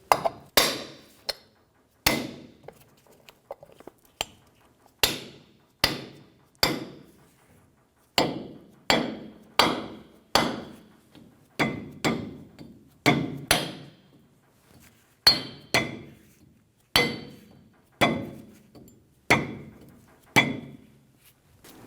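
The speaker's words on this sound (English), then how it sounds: "Install the dust cap, tap it into place." Tapping a wheel hub dust cap into place on a 2005-2015 Toyota Tacoma, a steady series of sharp, close metallic hammer taps, roughly one per second, each with a short ring.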